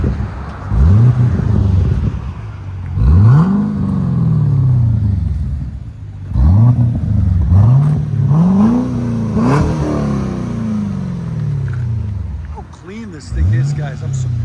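A Cadillac CTS-V with a 6.2L V8 and modified exhaust revs repeatedly from idle, each blip rising sharply then falling back, loud and close, with a crackling burble between revs.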